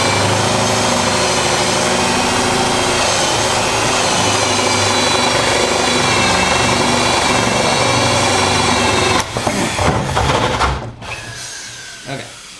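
An Irwin SpeedBor bit on a power drill bores through a door: loud, sustained motor whine under heavy load for about nine seconds, then sputtering and stalling bursts as the cut breaks up.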